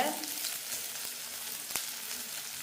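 Onion, green chili, fennel and curry leaves frying in a pan give a steady close sizzle with faint crackles and one sharp pop partway through, no voices.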